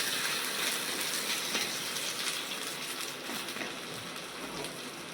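A freshly flipped sweet potato pancake sizzles in a pan with a continuous, rain-like hiss that is loud and close, easing off slightly toward the end, with no one talking.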